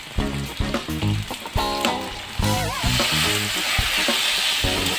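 Kochur loti (taro stolons) stirred in a pan after turmeric and salt go in, a steady sizzle of frying under repeated scraping strokes of a spoon against the pan, close and fairly loud with no voices.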